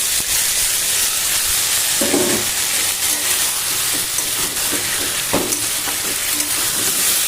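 Ground ginger and cumin paste hits a hot pan of vegetables and fries with a steady, close hiss and sizzle, with a few soft knocks from stirring.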